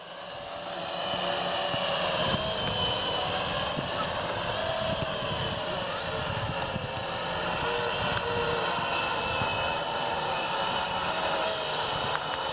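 Small GPS quadcopter drone flying in a park, a constant whining propeller buzz with a high tonal pitch that drifts slightly, steady and fairly close throughout.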